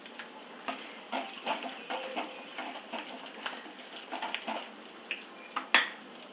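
Curry leaves tossed into hot oil for tempering while making sambar, giving a crackling sizzle with irregular pops and a few louder bursts near the end, fairly close and with no talking.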